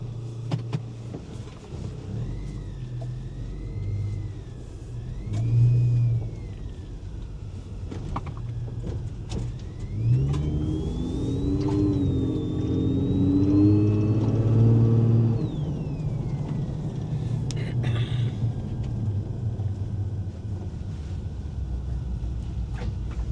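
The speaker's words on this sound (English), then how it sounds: "I like to let mine warm up and go from high RPMs to idling RPMs." A supercharged Toyota FJ Cruiser engine idles low, then revs up to a sustained higher roar for several seconds before dropping back to a steady idle.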